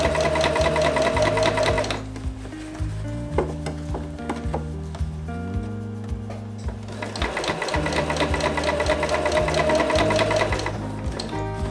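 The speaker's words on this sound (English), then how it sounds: "Stitching as closely as you can to that seam, just take time." A sewing machine runs in two bursts separated by a quieter pause with small handling clicks, understitching close to a seam on a baker boy cap.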